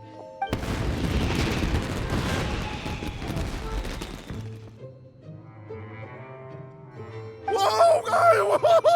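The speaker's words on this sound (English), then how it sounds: "Fireworks aren't just for festivals, you know." Fireworks in the video game Genshin Impact crackle and boom in a dense, loud barrage for several seconds, then give way to game music and a swelling melody.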